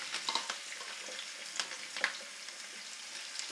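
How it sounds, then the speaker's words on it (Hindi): Green chillies and ginger frying lightly in hot oil for a chole masala, a soft, fairly quiet sizzle with a few brief ticks and pops from stirring. "अब हम इसमें अदरक भी डाल देते हैं और इसको भी हल्का सा भून लेते हैं"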